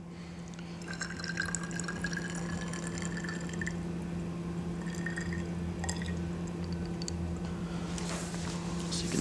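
Water trickles and drips into a small ethanol fuel tester vial, a quiet intermittent patter of droplets over a steady low background hum.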